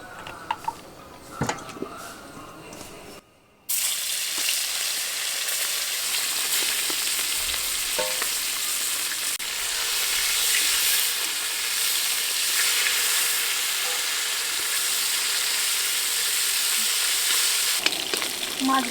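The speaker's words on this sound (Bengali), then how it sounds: "মাছটা ভেজে নেব। তেল দিয়ে দিলাম।" Fish fries in oil in a kitchen pan for a snake gourd and fish dish, a loud continuous sizzle and crackle that starts abruptly after a brief quiet moment and carries on steadily with occasional stirring clatter.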